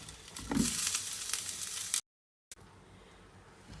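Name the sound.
bread pieces toasting on a tawa, sizzling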